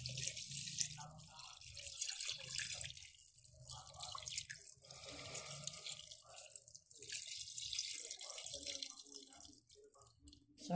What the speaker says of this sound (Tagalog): Lagay na po natin yung ating gata dito sa ating paksiw, mga kaguro.